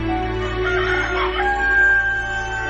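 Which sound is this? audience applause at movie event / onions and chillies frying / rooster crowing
rooster crowing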